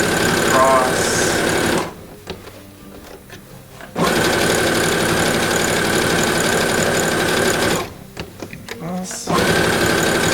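A sewing machine bastes stacked denim layers at a long 5.0 stitch length: loud, fast mechanical whirring in two runs, split by short pauses while a person speaks over the machine.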